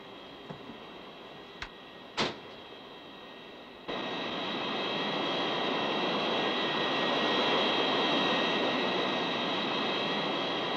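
A small aircraft waits before takeoff on a runway. After a couple of sharp clicks, a loud, steady engine drone starts abruptly and holds evenly, with no talking.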